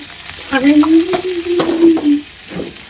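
A spatula stirs spicy food around a frying pan in a home kitchen, giving a few scraping strokes over a light sizzle. A steady humming tone runs beneath.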